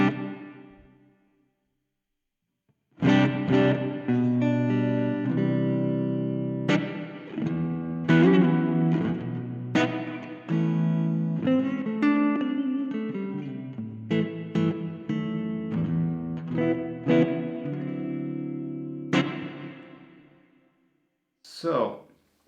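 Electric guitar through a Harley Benton Airborne Go wireless modeling amp plays sustained chords and single notes bathed in a smooth, lingering plate reverb that rings out between phrases.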